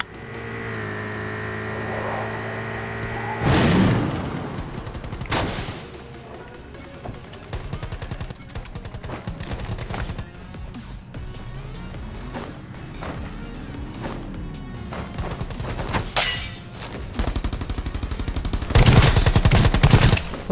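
P90 submachine gun firing in a first-person shooter from Rules of Survival at Bitter Lake, with loud close bursts of rapid automatic fire in several bursts, engine-like hum and other game sounds between them.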